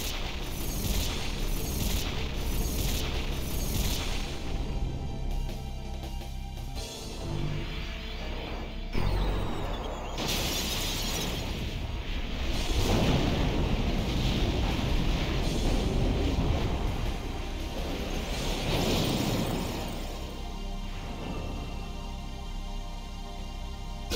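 Fire gem explosions in Final Fantasy X, a string of booming blasts and bursts layered over game music, loud and repeated across the whole stretch.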